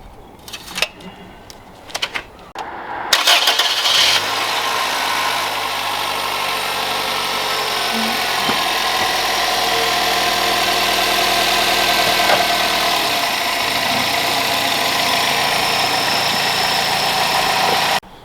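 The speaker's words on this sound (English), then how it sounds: "are you gonna start the car to circulate the new oil" A Toyota Corolla engine cranks and starts after a few seconds of handling noise, then settles into a steady, close idle that runs to the end, with a faint tick over the hum.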